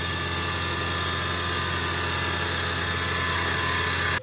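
A milling machine faces down a knife handle part at a slower feed and faster spindle speed, giving a loud, continuous mechanical drone and hum that holds steady until it cuts off abruptly at the end.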